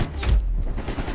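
Sustained gunfire from the Call of Duty Cold War video game, a dense rattling burst with a heavy low thump near the start, continuous and close throughout the short clip.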